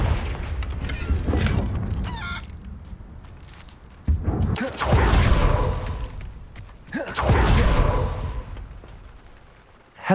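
Confringo blast spells cast in Hogwarts Legacy, heard as several heavy explosive booms with whooshing bursts, each swelling loudly and then fading over quieter ambient sound.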